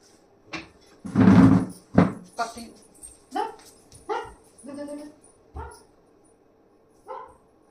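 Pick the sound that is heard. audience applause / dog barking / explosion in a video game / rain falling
dog barking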